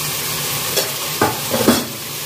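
Ridge gourd sizzles in a pan under a steady frying hiss, with a few scraping strokes of a spatula stirring it.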